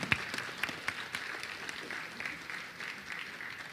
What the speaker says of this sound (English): Let's give them all a big round of applause for their support.